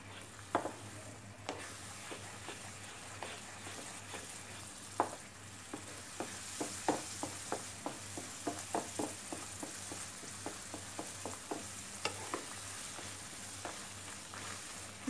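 Mango peda mixture roasting in a pan over a slow flame, with a soft low sizzle under a regular series of light scraping taps as it is worked steadily, fairly quiet and without voices.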